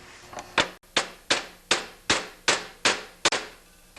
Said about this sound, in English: you have to pound them out from the inside here with a hammer